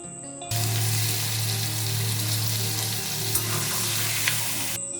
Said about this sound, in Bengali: এবার ধুয়ে রাখা মাংসগুলো দিয়ে নেড়ে নিচ্ছি।